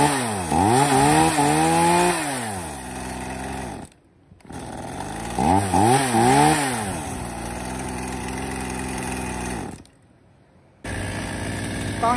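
A used Japanese domestic-market chainsaw engine runs close by, revving up and down in rising and falling bursts, with two brief cutouts before it picks up again.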